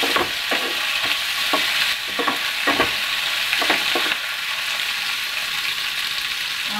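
Onions frying in a pan for paneer jalfrezi give a loud, continuous hiss, broken in the first four seconds by a series of quick stirring scrapes before the sizzle settles.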